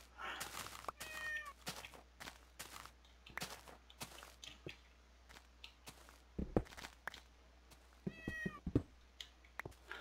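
Meowing from a hostile cat in the Minecraft Yogbox modpack, heard in two short harmonic bursts near the start and again near the end, set among clicky footstep-like game noises with no talk.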